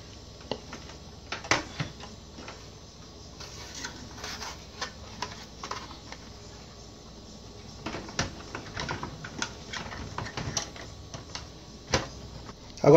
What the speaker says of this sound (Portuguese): Estarei encaixando a fontezinha aqui, tá?